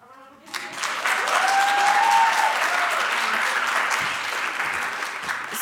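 Audience applause at a 2019 innovation event's opening session swells quickly after a brief quiet moment, then holds as a steady, dense roomful of clapping for several seconds.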